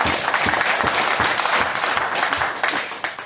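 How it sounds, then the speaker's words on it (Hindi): An audience at a Pearlvine meeting in Nawada claps for Vinod Mishra, a dense, steady round of applause filling the hall, with sharper individual claps standing out near the front. "उनके लिए भी एक बार ताली होनी चाहिए।"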